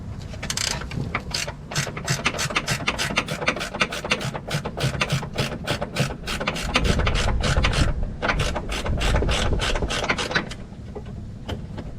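Ratchet wrench loosening a bolt on the front suspension of a 2008 Mercedes S550 during upper control arm replacement, a long run of rapid clicking pawl strokes in quick bursts, close and loud with no speech.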